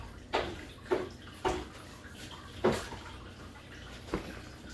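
Beer poured into a glass at a bar, heard as a run of five or six soft splashy bursts spaced unevenly over a faint hiss of settling foam, close and fairly quiet, with no talking.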